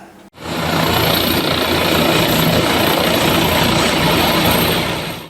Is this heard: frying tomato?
no